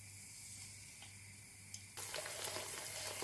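Eggplant slices dropped into hot oil for fritters, with a low hum at first and then a sudden burst of sustained crackling sizzle that continues loudly for the last second and a half.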